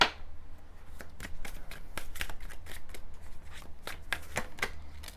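Oracle cards being shuffled by hand during a tarot-style love reading, a dense run of crisp riffling flicks and slaps that carries on steadily throughout, close and fairly loud with no talking.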